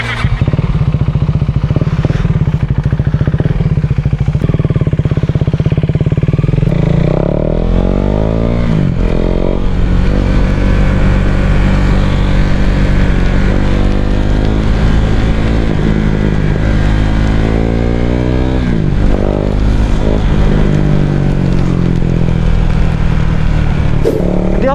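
A KTM motorcycle is ridden on the road, its engine loud and close throughout, with repeated rising and falling revs through gear changes and steady wind rush over about twenty-five seconds.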